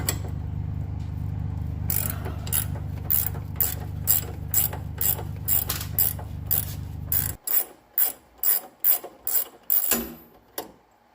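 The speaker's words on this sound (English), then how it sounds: "let's get this sway bar linkage off here" Rapid ratchet clicks remove a sway bar end link on a 2015 Ram 1500 pickup during a leveling kit install, first as a steady run over a low hum, then as separate loud bursts of clicking after the hum stops.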